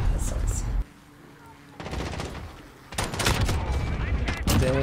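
Bursts of automatic weapon fire from a Call of Duty Modern Warfare match, with an MP5 and Glock in use, rattle in several loud volleys separated by brief lulls while a player talks over it.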